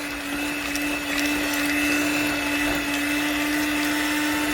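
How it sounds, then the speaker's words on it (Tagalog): A blender runs continuously with a high, steady whine and a grinding churn as it crushes soursop fruit with its seeds, close and loud. "maya maya i-blender ko to"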